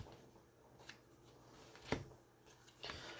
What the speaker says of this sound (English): I'm just going to keep shuffling and just see what actually pops out like that.